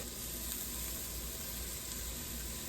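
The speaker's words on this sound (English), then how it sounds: "I'm letting the veggies saute for about 2 to 3 minutes" Vegetables sauté in a pan with a soft, steady sizzle and crackle, fairly quiet and continuous with no voices.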